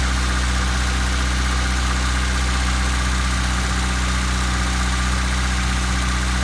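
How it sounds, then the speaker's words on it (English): A 1997 Honda Civic engine idles a little high while cold, a loud, steady, close rumble that holds unchanged throughout. "Let's see how it idles down."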